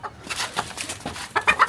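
Chickens cluck in a coop at a pet house, a close, busy chorus of short overlapping clucks and squawks that grows louder toward the end.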